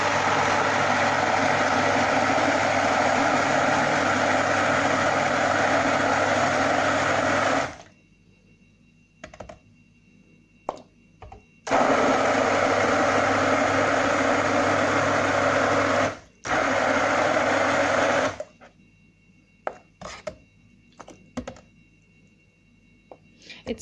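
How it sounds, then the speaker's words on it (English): A stick blender grinds cooked lentils for chicken-and-lentil haleem, three loud steady whirring bursts separated by quiet pauses filled with light clinks and knocks. "I am using my stick blender to grind the lentils"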